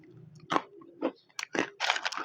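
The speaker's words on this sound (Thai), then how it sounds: "กรอบกรอบเลย มันม่วง" Crispy baked purple sweet potato chips are bitten and chewed close to the mouth, giving several sharp, separate crunches over about two seconds in a quiet room.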